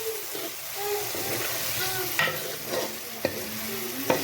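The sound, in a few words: tomatoes and green chillies frying in masala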